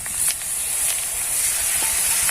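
Liquid poured into hot spices in a pan for a fish curry sets off a steady, loud hiss of sizzling and steam that holds for the whole stretch, with a few brief crackles.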